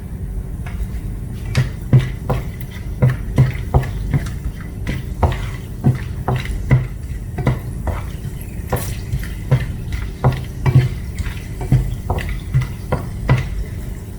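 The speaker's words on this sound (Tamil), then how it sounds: "இந்த எண்ணெயில் பட்டை, கிராம்பு, ஏலக்காய், ஸ்டார் அனீஸ் போட்டு அது காஞ்சி வரட்டும்." Whole spices (cinnamon, cloves, cardamom and star anise) crackle in hot oil for a chicken rendang, with a steady low sizzle and scattered sharp pops and clinks throughout, no voices.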